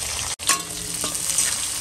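Onion and green chillies fry in hot oil with garlic and cumin, giving a steady, close sizzle with a scraping stir near the start and a brief dropout just before it.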